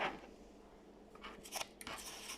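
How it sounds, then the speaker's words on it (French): Scissors cut out small paper phrases with a few quiet, close snips and rustles against a soft background hiss. "Et puis découper, en fait, ces petites phrases pour les coller après."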